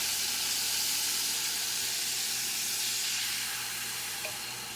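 White wine hitting a very hot pan while making flatbread gives a steady, loud broadband sizzle and hiss that holds throughout and fades slightly at the end, with no voices.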